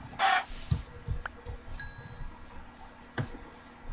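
Video game chicken sounds, a few short clucks and clicks scattered across a quiet background, faint and sparse, with small ticking noises between them.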